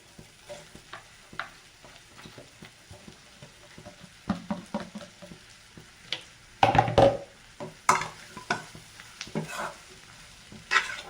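Leftover chapati cut into noodle strips and stirred in a pan, heard as quiet frying with irregular spatula scrapes and taps that grow louder and more frequent in the second half.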